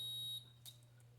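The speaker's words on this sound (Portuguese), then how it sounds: "Ele vai emitir o bip, igual o outro multímetro lá da Minipa" A handheld digital multimeter gives a steady high continuity beep as its probes touch a short jumper wire. The tone sounds faint and close, then breaks off, with a low steady hum underneath and a small click.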